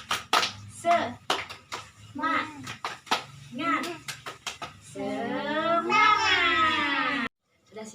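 Classroom children perform the tepuk semangat spirit clap, sharp hand claps in a quick rhythmic pattern between short chanted phrases, closing with a long drawn-out group shout; the voices and claps are close and loud.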